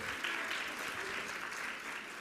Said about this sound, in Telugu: సంతోషం అంటే చప్పట్లు కొట్టి దేవుని స్తుతించండి.